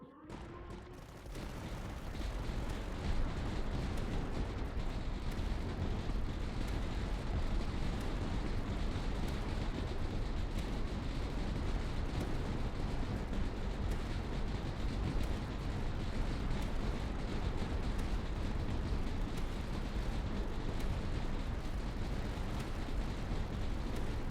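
Sustained mortar barrage in the Tower Dominion strategy game, endless mode final wave: dense, continuous overlapping blasts and booms forming a loud, steady wall of explosive fire for the whole stretch.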